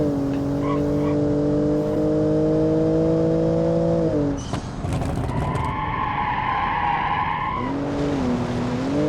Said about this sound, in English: downshift just sounds amazing in this one